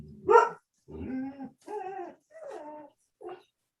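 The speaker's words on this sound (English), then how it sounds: "Sounds like my dog when they really," A dog barks and yips in five separate bursts, the first sharp and loud, the rest shorter and moderately close, with quiet gaps between them.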